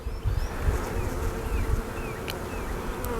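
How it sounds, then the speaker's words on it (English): Honey bees in an overwintered Layens hive hum in a dense, close, continuous buzz with occasional single bees darting past. "There's more and more bees every time we go another frame in"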